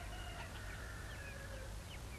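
Chickens clucking and calling in a farmyard, a scattered run of short faint chirps and clucks from a few birds at middle distance over steady background noise, with no voices.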